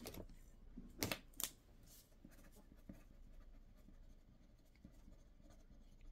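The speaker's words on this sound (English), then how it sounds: "Let me write that down so I don't forget." A pen or pencil scratches across paper as a note is jotted down, with a couple of louder strokes early on, then quieter intermittent scribbling against a hushed room.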